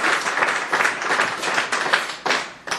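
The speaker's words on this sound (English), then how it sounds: "I would appreciate to stop clapping in case there are other opinions in the room" Audience members at a city council meeting clap in a brisk, uneven burst of applause that thins out toward the end, fairly close.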